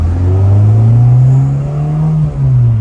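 A built 1995 Honda Civic sedan engine, JDM R head on a GSR block, holds a loud, steady rev close by, with its pitch climbing slowly and then dipping briefly near the end.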